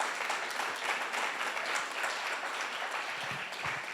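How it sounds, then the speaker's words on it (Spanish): A church congregation applauds during a sermon, a continuous full round of clapping from many hands, steady and somewhat distant, with faint low sounds beneath. "un aplauso al Señor, de un aplauso a Dios"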